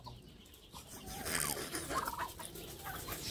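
Turkeys gobble in bursts amid clucking poultry in a rural yard, heard faintly from some distance over a soft background hiss.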